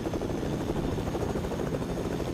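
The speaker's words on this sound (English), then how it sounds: "I've got there's another helicopter out here, dude." Helicopter in a battle royale video game, a steady throbbing rotor drone holding at an even level throughout, with no voices over it.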